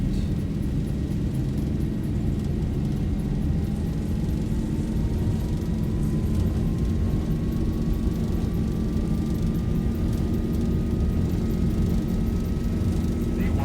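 A Boeing 737-800 in X-Plane 12 rolls down the runway for takeoff, its engines a loud, steady roar with a slowly rising whine running unbroken throughout.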